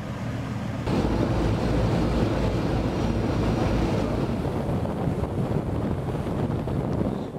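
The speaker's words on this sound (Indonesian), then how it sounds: "Petugas Basarnas Lampung Senin siang melakukan uji coba pengoperasian kapal motor 224 Basudewa" Basarnas rescue motor boat 224 Basudewa cruising on a trial run in the waters of Teluk Bandar Lampung, giving a loud, steady broadband rumble of engine, water and wind that kicks in after a short quieter start and holds throughout.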